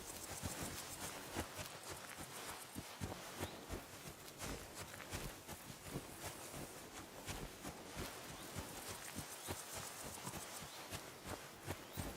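Rapid, steady clip-clop of horse hooves in the video game Kingdom Come: Deliverance II over a rustling, noisy background, continuous for several seconds with no talking.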